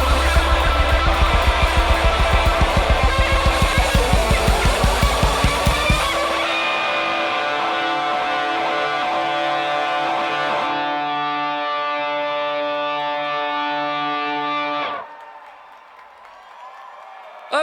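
A live recording of a song: a driving, distorted rhythmic beat with heavy low end for about six seconds, then sustained ringing chords that cut off near the end.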